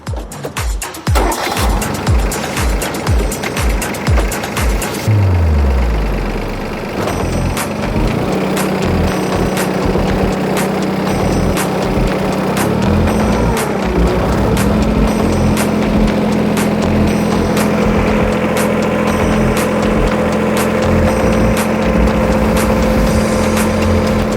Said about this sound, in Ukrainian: даному тракторі встановлений трьохциліндровий двигун Янмар з маркуванням 3ТН65